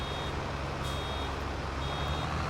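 In a farming video game, a baler's warning alarm beeps in faint, evenly spaced tones before ejecting a bale, riding over a steady, loud machinery drone.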